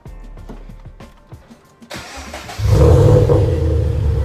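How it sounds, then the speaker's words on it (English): A few clicks and the whir of a starter cranking, then a Scion FR-S engine with full bolt-ons catches and settles into a loud, steady idle. "We're gonna start it up."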